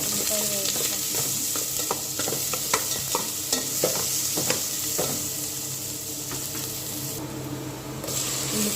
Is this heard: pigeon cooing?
no